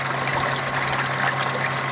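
Water pouring steadily from a koi pond skimmer into a filter tank, a constant close splashing rush with a low pump hum underneath, no voices.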